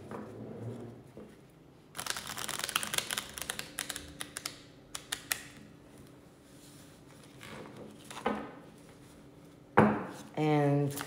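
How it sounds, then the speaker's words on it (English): A deck of cards is shuffled in quick crisp bursts of riffling and clicking, close by, with pauses between and a voice speaking near the end. "shuffle the cards."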